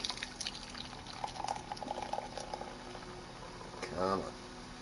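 Coffee pours into a cup inside a video game, a faint liquid stream rising in pitch as the cup fills near the end, under a low background hiss with light murmuring.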